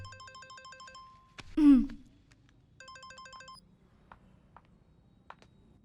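A synthetic phone ringtone plays a repeating burst of electronic tones, breaks off, then rings again briefly amid faint background noise.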